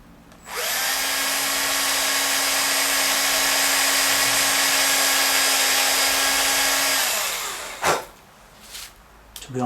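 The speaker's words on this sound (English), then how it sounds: "I want to get this really nice in the middle and drill it straight" Power drill boring into a Fender Stratocaster Custom Shop guitar body, a loud, steady high-pitched whine lasting about seven seconds before winding down, followed by a couple of brief knocks.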